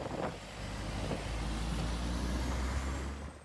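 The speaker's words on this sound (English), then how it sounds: "it was the plow trucks who were the king of the roads, clearing the streets as best they could" Snow plow trucks clearing snowy roads give a steady, heavy engine rumble with broadband road and scraping noise, holding loud and constant before easing off at the end.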